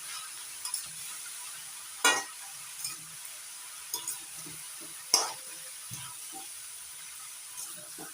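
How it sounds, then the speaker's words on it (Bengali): Bottle gourd being stirred with salt and turmeric in a pan, soft sizzling with a few sharp scraping and clinking strokes of the spoon spread across the stretch, fairly quiet and close with no talk. "এবার হলুদ আর লবণ লাউয়ের সঙ্গে ভালো করে মিশিয়ে নিচ্ছি"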